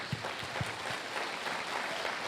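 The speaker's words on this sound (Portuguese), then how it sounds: "Aplauda Jesus." A church congregation claps steadily in a dense, even wash of applause during a worship service, moderately loud and sustained throughout.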